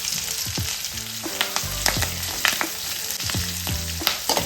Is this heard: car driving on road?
no